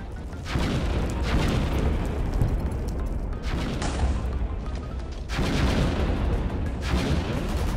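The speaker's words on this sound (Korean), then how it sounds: "총소리?" Gunfire in a busy outdoor scene, loud bursts of booming shots that roll on in a dense, sustained barrage with a brief lull before resuming, no speech.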